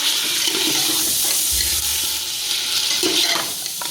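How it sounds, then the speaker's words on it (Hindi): Masala frying and sizzling in a pot for degi aloo gosht, a steady, dense hiss with stirring scrapes running throughout at close range, no talk. "इसको हम 2 मिनट के लिए इसको फ्राई करेंगे"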